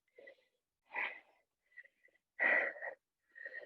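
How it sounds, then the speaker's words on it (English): Hard, heavy breathing from an instructor during a core workout session, several loud breathy bursts with short gaps between them, close and with no talk over it. "I'm sure you can hear me breathing hard"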